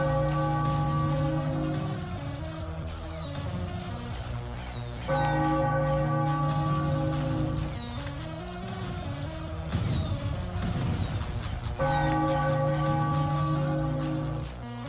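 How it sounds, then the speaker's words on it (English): Church-style bell rings repeatedly after a Kansas City Royals versus Tampa Bay Rays baseball game ends, a series of resonant strikes with long ringing decay, clear and alone without talk. "Ring the bell for Kansas City."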